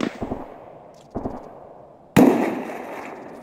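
Gunfire from the video game Escape from Tarkov sounds as a few distant cracks with echoing tails, then a louder, nearer shot that rings out and fades.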